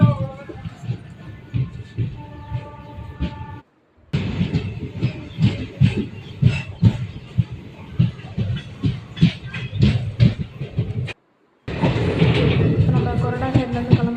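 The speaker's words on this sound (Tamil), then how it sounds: "கிளம்பியாச்சு கைஸ். 12 மினிட்ஸ் டிலேயாக கிளம்புறோம் கொரடாச்சேரியிலேருந்து." Passenger train pulling out of Koradacheri station in the Tamil Nadu delta, a steady rumble with rhythmic clickety-clack of wheels over rail joints, interrupted by two brief gaps, with people talking over it.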